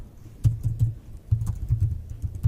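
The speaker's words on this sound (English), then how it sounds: "Let me type something here." Bursts of keystrokes on a computer keyboard, close and fairly quiet, arriving in two short clusters of quick taps separated by a brief pause.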